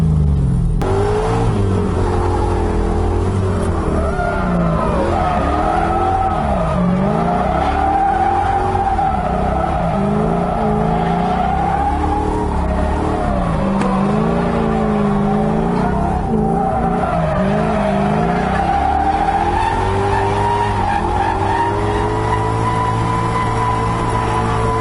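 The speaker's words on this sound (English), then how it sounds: "This is the first time I've tandem drifted it" An LS-swapped Mazda Miata tandem drifting, its V8 engine revving hard and continuously with rising and falling pitch as the tires skid and squeal, loud and close throughout.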